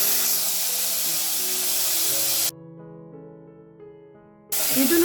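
Chopped tomato frying in a pan gives off a broad, steady hissing sizzle that cuts out abruptly for about two seconds before resuming.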